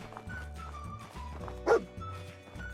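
A dog in the post-apocalyptic video game Fallout 4 gives a single short, sharp bark amid quiet game music and ambience, fairly close and clear.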